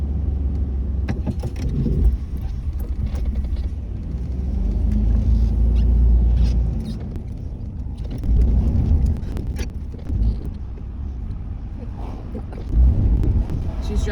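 A camper van drives along a road with a steady low engine and road rumble, swelling and easing at times, with wind noise buffeting the microphone throughout.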